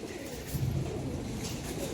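Tumbler pigeons give a single soft, low coo over a steady background hum, close by and fairly faint.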